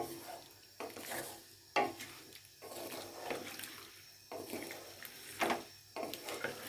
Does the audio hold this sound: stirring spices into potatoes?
yes